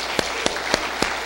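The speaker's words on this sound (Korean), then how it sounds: "우리 청년들 우리 격려하면서 박수 한번 치겠습니다." A Korean church congregation at a Sunday service claps in unison to encourage its young adults: four sharp, evenly spaced claps in quick rhythm, crisp and fairly close.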